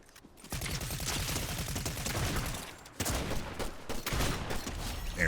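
Rifle fire in the Fortnite video game: sustained rapid bursts of gunshots, loud and close, with a brief break near the middle before the firing resumes, and no voices.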